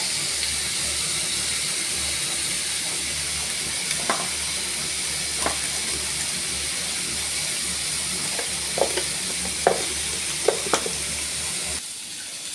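Vegetables, bitter gourd or bottle gourd, sauté in oil with a steady hiss and sizzle, and a handful of sharp utensil taps and scrapes spread through the clip, near and moderately loud.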